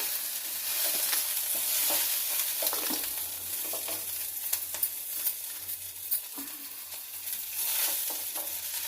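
Ingredients for cucumber chutney frying in a pan, a steady close crackling sizzle with occasional light stirring taps and no talking.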